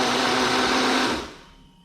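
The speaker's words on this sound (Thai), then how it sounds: "ก็น้ำกระเทียมดองนะคะปั่นเลย กระเทียมด้วยค่ะ ปั่นเลยค่ะ" A kitchen blender whirs loudly as it blends pickled garlic with its brine, alongside lemongrass, chili and coriander root, running steadily up close before winding down and fading out.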